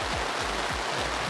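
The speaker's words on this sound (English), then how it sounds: "The rain is really coming down hard" Heavy rain falling steadily during an outdoor RC sailboat race of DF65 model yachts, a dense continuous hiss of drops with low rumbling wind gusts underneath, loud and close throughout.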